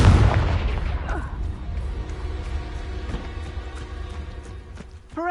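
A Confringo fire spell bursts in the Hogwarts Legacy video game, a loud booming blast at the start that rolls into a decaying rumble, followed by scattered smaller pops and a final thump near the end.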